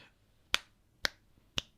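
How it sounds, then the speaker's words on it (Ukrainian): Three sharp finger snaps ring out alone in a quiet room, evenly spaced about half a second apart, each crisp and brief. "коли ми ляскаємо пальцями, вони видають коливання з частотою от в такому 20-20 тисяч Гц"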